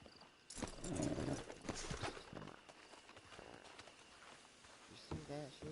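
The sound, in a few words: horse hooves in video game Red Dead Redemption 2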